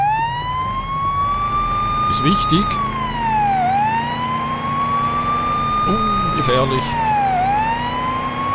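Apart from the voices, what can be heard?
police siren in Police Simulator: Patrol Officers video game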